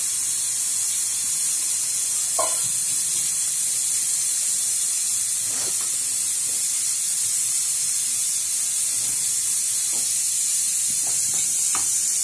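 Water from soaking dried chilies poured into a hot kadai of onions, a loud sustained steamy hiss and sizzle with occasional clinks and stirring, no talk.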